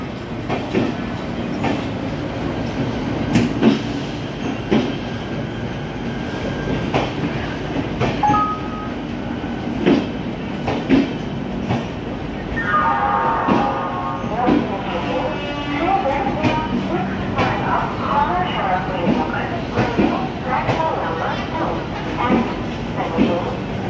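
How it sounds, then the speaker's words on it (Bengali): The Howrah–New Delhi Rajdhani Express rumbles through Howrah Junction as it departs, with rhythmic clattering wheels and occasional squeals, while people talk in the background. "দেখতেই পাচ্ছেন ট্রেনটা কত বড়।"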